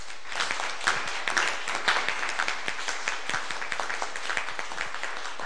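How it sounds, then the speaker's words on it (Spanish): Audience applause at a university conference on intercultural diversity and indigenous peoples, a steady crackle of many hands clapping at moderate distance with a few sharper claps standing out, lasting throughout. "yo les invito a que le demos un doble aplauso"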